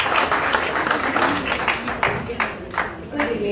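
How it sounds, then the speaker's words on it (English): An audience at a KenyaIGF 2018 forum breaks into scattered, moderate clapping that rises and thins over a few seconds, with a voice heard over it. "Clap for June. Give her some energy."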